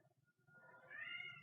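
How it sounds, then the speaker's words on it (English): A cat gives a single drawn-out meow that rises and swells toward the end, close and fairly quiet, preceded by faint low rustling. "That's the cat."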